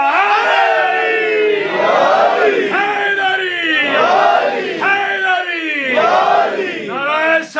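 Crowd at an Arbaeen majlis in Woking, UK, chanting religious slogans in unison, loud rhythmic call-and-response phrases rising and falling in steady waves throughout.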